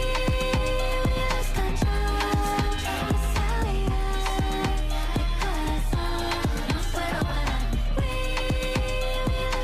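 A single plays as recorded pop music with a steady, punchy beat under layered melodic parts, continuous and at full level.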